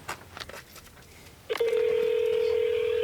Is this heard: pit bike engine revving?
no